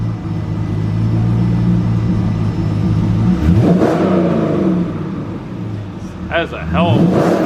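A C5 Corvette fitted with a Borla S-Type cat-back exhaust, still running its catalytic converters, rumbles loudly and revs up through a couple of throttle blips, with speech over the engine.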